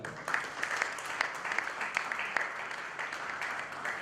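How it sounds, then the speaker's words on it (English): An audience claps in a wide, even wash of applause just before a national anthem, sustained and moderately distant, with faint background voices. "Big round of applause for all of you."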